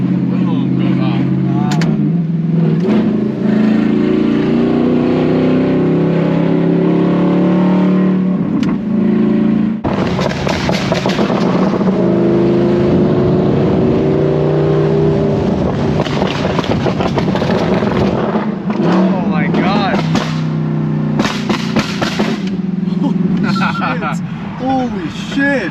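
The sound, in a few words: sports car exhaust popping while decelerating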